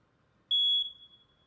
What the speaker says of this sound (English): Be sure to test your smoke and carbon monoxide alarms today.